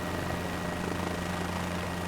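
Helicopter in flight near Thruxton Aerodrome in Microsoft Flight Simulator, a constant loud rotor and engine drone with a steady low hum, continuous and close with no speech.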